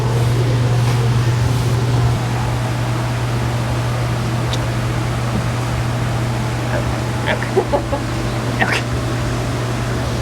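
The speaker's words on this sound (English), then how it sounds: "That fan's just blowing it back at me." A fan blows near a horse barn during grooming, a steady close low hum and airy rush running throughout, with brief soft clicks and one short spoken word.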